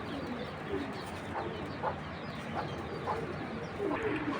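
Purple-necked pigeons, a pair at a tournament pigeon loft, cooing in soft, repeated low calls that rise briefly every half second or so over a steady bed of background noise.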